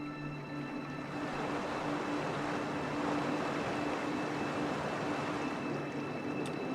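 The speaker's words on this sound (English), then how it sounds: "Oh no, the waterfall's too loud now." A waterfall in the video game Heaven's Vault roars steadily as a continuous broadband rush of water, even and unbroken throughout, with a faint hum beneath it.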